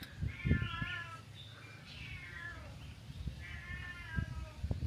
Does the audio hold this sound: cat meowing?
yes